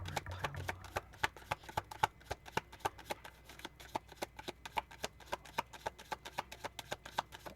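Tarot cards are shuffled close by in a steady run of crisp, rhythmic riffling clicks, quiet and alone.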